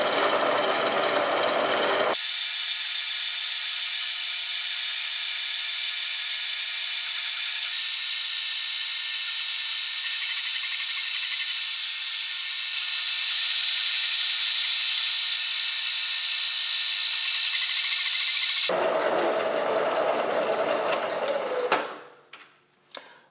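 A machine mills the inletting into a wooden stock for an A.H. Fox shotgun, producing a steady, loud, high-pitched cutting whine that holds for about sixteen seconds, then gives way to quieter mechanical clatter before fading out.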